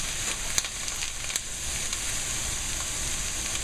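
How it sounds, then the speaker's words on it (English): Ground beef sizzles in a hot pan as a wooden spoon breaks it apart for guisado, a steady frying hiss with a few soft scraping knocks. "Break it up with your wooden spoon."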